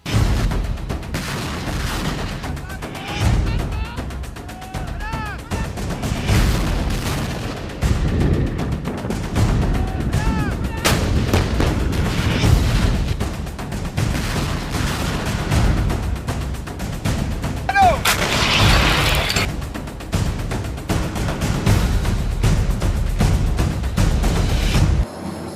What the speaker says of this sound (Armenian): Ժամը 4:00-ի սահմաններում ամբողջ առաջնագիծը բառացիորեն պայթեց